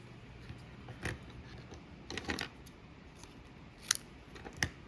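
Scissors cut a sheet of card paper in half for a handmade friendship card, heard as a few close, crisp snips spaced out over a quiet room with no speech.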